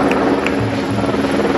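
A helicopter drones steadily and loudly overhead at a welcome event in Kashmir, its rotor thrum continuous and close, with no talk heard.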